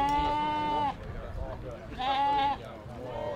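Sheep bleating at an agricultural sheep show, two loud, wavering bleats close by, the second following after a short pause, with people talking quietly in the background.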